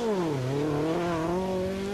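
A rally car at the 1984 Manx Rally revs hard on a stage, its engine note dipping and climbing through a gear change, loud and close, as it races past a hairpin.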